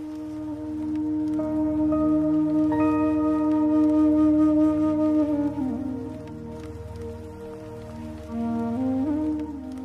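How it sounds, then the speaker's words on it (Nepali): Rain falls outside on a winter day, a steady patter heard continuously for about ten seconds beneath a sustained tonal hum. "बाहिर पानी पर्या जस्तो हो।"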